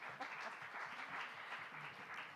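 Audience applause at the 87th AIPS Congress in Rabat, Morocco, honoring a handmade porcelain trophy carried intact from Hungary: steady, dense clapping that stays even and continuous throughout.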